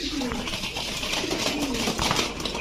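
Fancy pigeons, including Kaldam, Chila and Sharanpuri breeds, coo softly and repeatedly at a pigeon sale, low burbling calls over a busy, noisy background.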